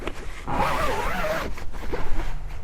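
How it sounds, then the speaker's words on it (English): Canvas windows on the pop-top roof of a VW California Beach camper are zipped closed in a couple of close, rasping pulls, with fabric rustling between them and no speech. "zip those over."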